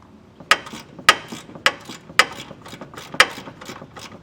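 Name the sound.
10mm ratchet loosening bolts on a Ford Maverick frame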